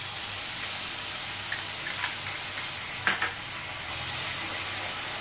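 Beaten yogurt stirred into spices and onion sizzling in a pan for Mughlai fish curry, a loud steady frying hiss with a few soft scrapes of the spoon partway through.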